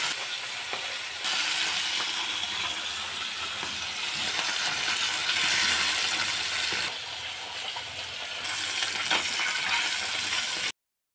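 Continuous hissing sizzle of koi fish (climbing perch) frying in oil, fairly loud and steady with brief shifts in intensity.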